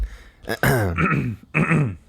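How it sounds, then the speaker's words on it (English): A person clears their throat several times in quick, raspy bursts, close and loud, with no other sounds around. "You're clearing your throat like you're gonna read it"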